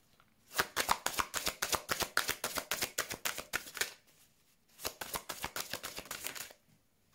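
Tarot cards shuffled by hand, two runs of quick, close riffling flutters separated by a short pause, crisp and fairly quiet, with no voices.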